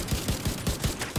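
A rapid burst of automatic gunfire from a heavy-recoil weapon in the shooter game The Division 2, about seven evenly spaced shots in quick succession, up close and moderately loud with no talking.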